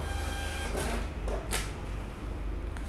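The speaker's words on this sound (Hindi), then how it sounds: "सेव एंड प्रिंट करिए। अभी कैसे बिल आएंगे आप देखिएगा उसको।" A POS billing printer prints a shop bill, a quiet mechanical whirr broken by a few short clacks and rattles of paper feeding, heard close and alone.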